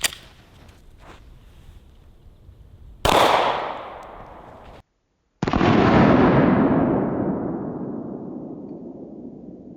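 A Glock 23 fires .40 Smith & Wesson ball ammunition at body armor, two sharp, loud shots that each ring out in long fading echoes, with a fainter report at the start.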